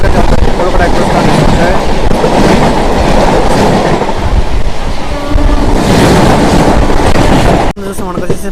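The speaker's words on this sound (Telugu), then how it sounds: "సో ఇక్కడ చూసుకుంటే మన గోల్కొండ ఎక్స్ప్రెస్ వెళ్తుంది." The Golconda Express, running between Guntur and Secunderabad, rushes past close by with a loud, steady rumble and rhythmic clatter of wheels on rails that stops abruptly near the end.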